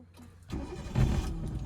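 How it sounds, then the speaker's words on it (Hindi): A car engine cranks and catches, rising from quiet clicks into a steady running rumble, close and moderately loud with no talking. "अभी आप कार का इंजन ऑन करो और बहुत ध्यान से सुनिएगा"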